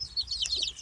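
Chickens bred as breeders on a small farm give quick, high clucks and chirps, several overlapping calls close by over a faint low rumble.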